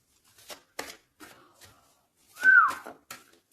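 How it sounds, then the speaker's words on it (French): A person whistles a few short, breathy notes in a halting, uneven sequence, ending in one brighter sustained tone, close and alone in a quiet room. "Non, c'est pas bien sifflé, pardon."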